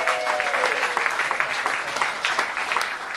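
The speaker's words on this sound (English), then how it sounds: "Give them a nice round of applause." A club audience applauds the royal couple in a steady, dense burst of clapping, close and loud, with crowd noise mixed in and no speech.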